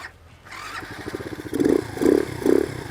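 A Skyteam Bubbly 125cc scooter engine putters at idle, a light rapid chugging that swells in three brief pulses near the end.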